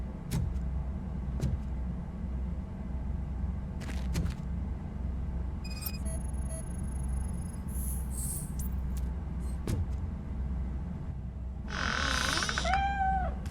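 A cat in the RoboCop Rogue City game lets out a drawn-out, wavering meow near the end, heard alone over a low ambient rumble broken by a few sharp clicks.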